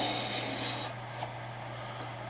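A knife is drawn across the ceramic slot of a Smith's PP1 Pocket Pal sharpener in soft, close rasping strokes, fading lighter over a couple of seconds.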